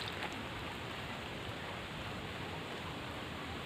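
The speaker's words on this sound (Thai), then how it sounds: "ฝนตกพี่น้อง" Rain falling outdoors, a quiet, steady hiss of drops with no breaks, faint and even throughout.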